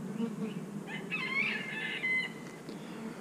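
Honeybees in a small two-frame nuc colony hum with a faint, calm, continuous buzz, close by and without talk.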